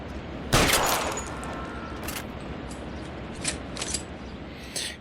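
A single sharp gunshot cracks early in the 1940s Los Angeles crime game L.A. Noire, followed by fainter scattered pops and clicks over a low background hum, no voices.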